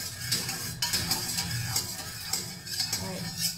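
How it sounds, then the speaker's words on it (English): Lime juice being stirred into a dipping sauce for Vietnamese bun cha, with a utensil clinking and scraping against a bowl in quick irregular taps, close and fairly loud. "Mix it together."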